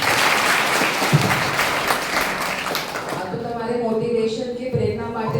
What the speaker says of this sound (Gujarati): તો સૌ માટે એક વખત ફરીથી તાળી બજાવી